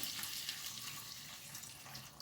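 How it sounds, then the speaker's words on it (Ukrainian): A soft, steady pour of beer into a pan, with a faint fizzing hiss, continuous and fairly quiet, with no voices. "Наливаю пиво."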